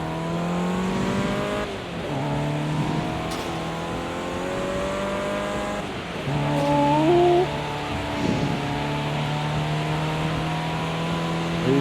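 A single-seater race car engine in a racing video game screams at high revs and steadily climbs through gears, with brief dips at shifts, loud and close throughout.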